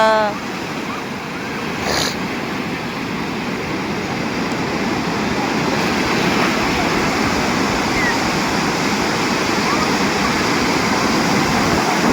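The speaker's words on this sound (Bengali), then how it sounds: "ঢেউগুলো দেখো শুধু একটু, ঢেউ" Ocean surf crashes continuously on a beach, a dense, loud roar that swells slightly in the second half, with a short burst of chatter at the start.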